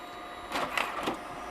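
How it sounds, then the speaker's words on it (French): A photobooth printer whirs briefly as it feeds out a printed photo, a soft mechanical rush of about a second against a quiet indoor hum. "l'impression va sortir"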